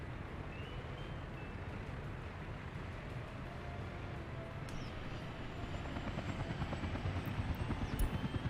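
A helicopter in the city-building game Workers & Resources: Soviet Republic drones with a steady broadband rotor and engine rumble, holding constant and growing slightly louder toward the end.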